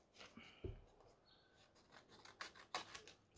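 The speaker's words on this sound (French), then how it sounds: "On vient découper." Scissors snip through paper for a scrapbook mini album, several quick close cuts and rustles scattered across a quiet room, with no one talking.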